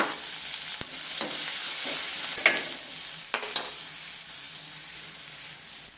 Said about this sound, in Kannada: ಸಣ್ಣಗೆ ಹಚ್ಕೊಂಡಿರೋಂಥ ಶುಂಠಿನೂ ಬೆಳ್ಳುಳ್ಳಿನೂ ಹಾಕ್ಕೊತಾ ಇದ್ದೀನಿ.